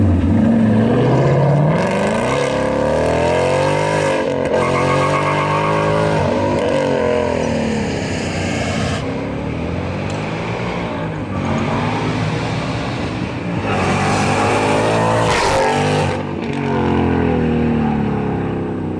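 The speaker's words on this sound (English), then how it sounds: "Let's hear how this thing sounds on the takeoff." A Roush-built 710-horsepower Mustang launches hard from a standstill, its loud engine roaring through rising, climbing gear pulls with brief shift breaks, close and continuous for the whole run.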